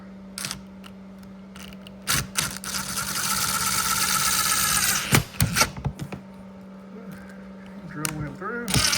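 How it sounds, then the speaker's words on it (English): A power drill bores a hole through the door of a 2009 Saab 9-3 Aero XWD, a few seconds of steady, close whirring framed by clicks and handling knocks. "All right, let's drill the hole."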